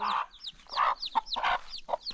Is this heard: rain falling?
no